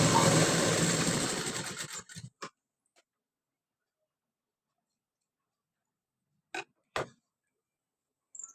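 A sewing machine stitches a loose running stitch on a prince-cut boat-neck blouse, humming for about two seconds before stopping. A few short clicks and taps follow, separated by long silences.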